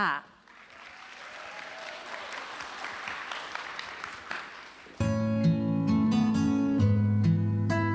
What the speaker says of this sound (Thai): ขอเสียงปรบมือต้อนรับคุณตุ้ยเกียรติกมลลาทาค่ะ